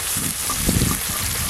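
Chopped onion frying in oil reused from frying tilapia fish, a steady close sizzle with soft stirring scrapes throughout.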